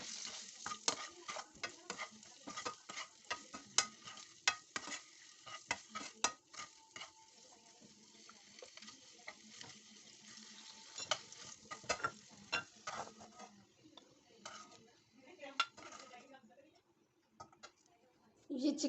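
Eggs frying in a pan for chicken pulao, with irregular stirring scrapes and clinks of utensils over a faint sizzle, close and quiet, with a voice talking at times.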